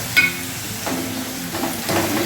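Water mixed with ground melon seed paste is poured into a hot pan, bringing a steady sizzling hiss with a few small pops and bursts, close and moderately loud.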